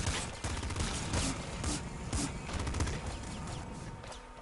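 Rapid gunfire and explosive bursts from the top-down shooter Nuclear Throne, a dense, continuous spray of shots with crackling impacts at steady loudness, no voices over it.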